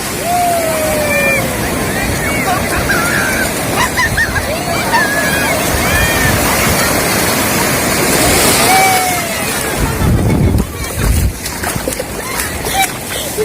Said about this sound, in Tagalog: Ang alon, no?